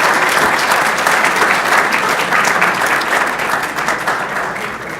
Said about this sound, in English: let's give a round of applause to all of them